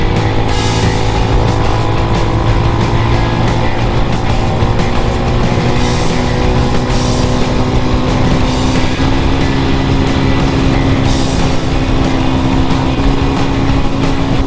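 A 2019 RPS Hawk DLX 250 motorcycle engine runs loud and steady during scenic on and off-road riding, its drone holding near and constant for the whole stretch with no voices.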